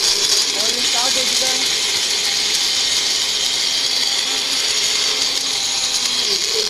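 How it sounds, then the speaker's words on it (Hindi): A kitchen mixer grinder blending dry ingredients for a protein shake runs loudly and continuously, its steady high-pitched whine and motor roar filling the whole stretch without pause. "मेरा मिक्सी चल जाता है"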